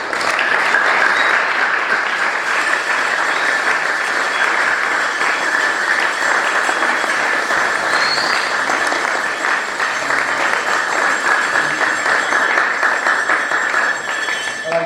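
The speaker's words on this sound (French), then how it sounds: "Vous pouvez les applaudir." An audience at a Christmas celebration in Nyassia applauds continuously, a dense, loud, even clapping that holds steady for the whole stretch.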